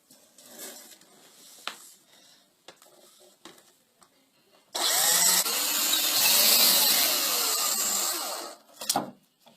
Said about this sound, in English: Drill a hole right here, same size as the cable